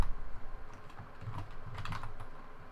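Rapid keystrokes on a computer keyboard, an irregular run of close, fairly quiet clicks with a burst near the start and steady tapping throughout.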